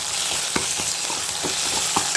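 Tomatoes and green chillies sauté in a hot pan for a tamarind moong dal kuzhambu, giving a steady close sizzle with a few soft spoon-stirring scrapes and no talk.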